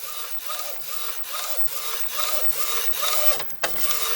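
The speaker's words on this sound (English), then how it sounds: "is printing kind of weird just a little bit." A Procolored DTF printer prints with its white ink running slightly unevenly. The print head makes a steady, rhythmic shuttling whir, pulsing back and forth about twice a second, close and fairly loud, with no talking.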